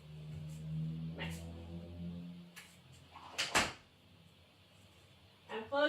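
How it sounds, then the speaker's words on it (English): A door swings shut with a sharp thud and rattle at a house with no air conditioning, preceded by lighter knocks and handling noise, while a low hum runs underneath. "I'm closing the door back."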